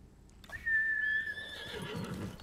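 A horse whinnies once in Ghost of Tsushima, a rising then wavering neigh, with a soft rumble of movement beneath it.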